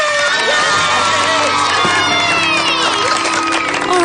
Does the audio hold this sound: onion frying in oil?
no